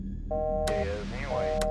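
A phone ringing inside an indie horror video game, a steady electronic tone with bending pitches and bright chirps, fairly loud over a low background hum.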